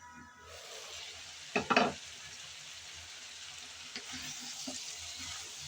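Bitter gourd frying in a pan, a steady sizzle with a loud burst of stirring and scraping near the start and a few lighter spatula knocks afterward.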